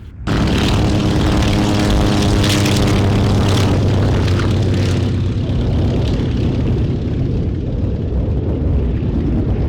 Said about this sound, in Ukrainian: Коли вантаж помістили на борт, диспетчери дають літакові дозвіл на зліт.